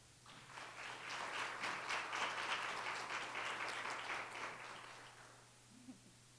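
An audience at a national development vision event in Sint Maarten applauds, a dense burst of clapping that rises quickly, holds steady for several seconds, then fades away, heard at moderate distance in a hall with a low hum underneath.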